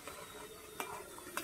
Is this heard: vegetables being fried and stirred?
yes